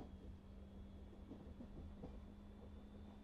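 A train engine runs in the Euro Train Simulator game, a steady low rumble with a constant hum and a faint high whine, holding even throughout with no voices.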